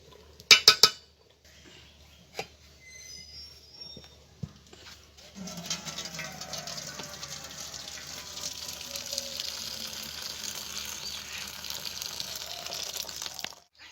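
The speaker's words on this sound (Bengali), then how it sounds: "এবার এর মারটা ঝরিয়ে নেব।" Starch water drains from a pot of cooked rice in a long, steady pour after a few sharp metallic clinks of pot and utensils, heard close in a kitchen.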